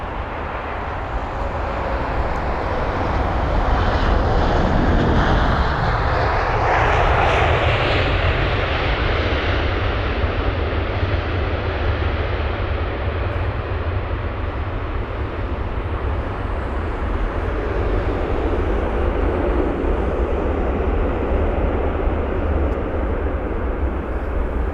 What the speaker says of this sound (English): Here it is, the A350.